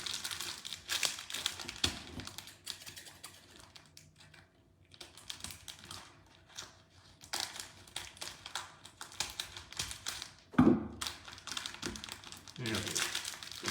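Plastic bag and pouch crinkling and rustling up close while being pulled open, in bursts of crackle with a sharp tear near the end, with some speech around it.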